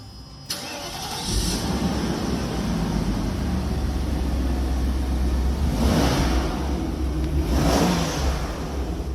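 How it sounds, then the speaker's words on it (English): A car engine with rod knock starts and runs steadily at close range with a constant low rumble, briefly revving twice toward the end. "This customer's car came in with a really loud engine rod knock"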